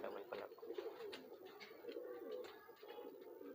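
Indian Gulab Sira high flyer pigeons coo softly and repeatedly at close range, a steady low burbling with a few brighter chirps mixed in, with no talking.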